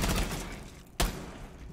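Rainbow Six Siege gunfire, a fast burst of shots at the start and one sharp, loud crack near the middle, each followed by a fading rumble of game ambience.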